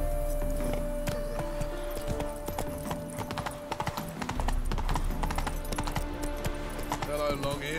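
Horse hooves clip-clop steadily in The Witcher 3 video game, a quick walking rhythm that runs throughout, close and fairly loud under the game's background sound.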